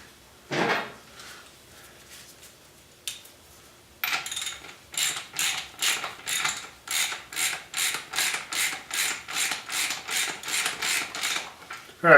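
A fork cap is threaded onto the fine threads of a motorcycle fork: about a dozen and a half evenly spaced, close ratcheting clicks in a steady rhythm, preceded by a few scattered handling sounds.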